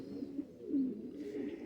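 Pigeons coo softly in a loft with young birds nearby, low throaty murmurs rising and falling in a steady run, with a faint higher chirp toward the end.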